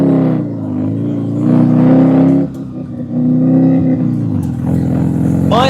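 A home-built rotary-engined car on its first drive, the engine droning and rising in pitch through revs, easing off midway and then climbing again, close and loud throughout.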